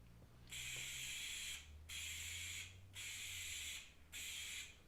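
Dupli-color spray paint can misting light coats onto interior trim in four steady hissing bursts of about a second each, separated by brief pauses, close and clear over a quiet background.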